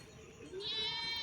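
A goat with newborn kids bleats once in a village setting, a thin, wavering, high cry that rises midway and holds steady at moderate volume, with no talk over it.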